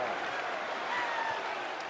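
A record crowd in a packed arena at a college basketball game applauds and cheers in a steady, dense roar, with an announcer talking over it.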